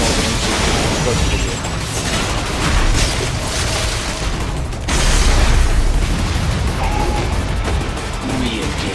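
Loud, dense car explosion in Metal Gear Rising: Revengeance, with booming blasts and crackling debris, a burst swelling again partway through, over continuous rumble.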